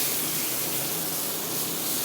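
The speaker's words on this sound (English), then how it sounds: "You can hear that sizzle." Meat sizzles loudly and steadily in a hot oiled cast iron pan, a dense, continuous hiss that fills the whole stretch with no voices.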